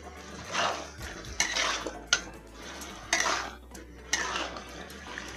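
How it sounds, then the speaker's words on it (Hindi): Potatoes are added to a pan of yogurt masala for an aloo sabzi and stirred with a spoon, making repeated scraping, clinking strokes against the metal pan in uneven bursts, close and moderately loud. "अब डाल देंगे इसमें आलू। मिक्स कर देते हैं इसको।"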